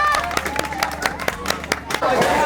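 An audience at an outdoor tire-goal challenge event claps for a challenger, a scatter of uneven claps under a host's voice and crowd chatter.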